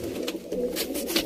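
Pigeons, including Sialkoti pearl-eyed and black-faced birds, coo close by in soft throaty pulses that keep overlapping, over a faint background rustle.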